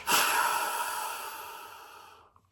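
A hunter imitates a deer snort wheeze through cupped hands, giving one sharp, breathy burst of forced air that trails off into a long, fading hiss, close and fairly quiet.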